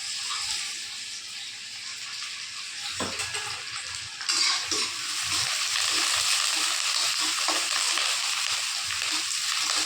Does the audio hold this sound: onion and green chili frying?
yes